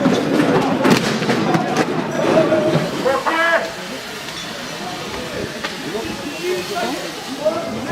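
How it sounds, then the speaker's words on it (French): Firecrackers thrown at protesters during a tense street clash between rival groups, sharp bursts and crackles popping through a loud, hissing crowd din with shouting voices throughout. "Ils ont lancé des projectiles, des pétards."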